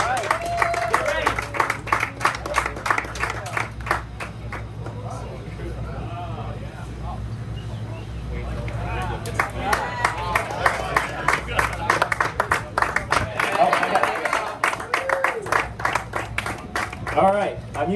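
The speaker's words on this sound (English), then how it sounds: "let's get a little bit of applause here." Applause for the unveiling of a BMW M4 GT4 race car, steady rapid claps through most of the stretch, thinning briefly in the middle and then building again, with people talking over it.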